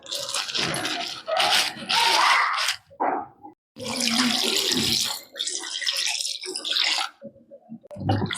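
Mutton pieces being washed in water in a home kitchen, with bursts of splashing, rinsing and running-tap sounds broken by short pauses, close and fairly loud.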